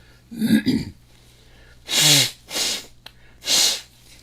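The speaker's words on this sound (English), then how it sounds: "Maybe I'll blow my nose." Someone nearby blows their nose in several forceful honking bursts separated by short pauses, with a sniffly breath at the start.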